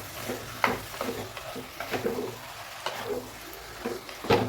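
One kilogram of chicken sautéing in hot oil in a pan, a soft steady sizzle with scraping stir strokes and occasional clatter, nearby and moderately loud, with no talk.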